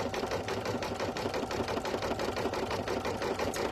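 A sewing machine stitches quilt appliqué at a slow, even pace, its needle tapping out a steady, rapid rhythm up close at low volume, with no voices over it.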